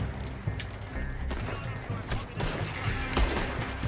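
Repeated gunfire from a shootout in the video game Red Dead Redemption 2 Online, with scattered shots over a continuous busy game soundscape, some cracks standing out louder near the end.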